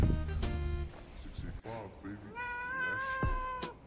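A cat stuck up a tree, cornered by dogs, meows repeatedly in drawn-out, wavering cries, close and clear, with people talking nearby.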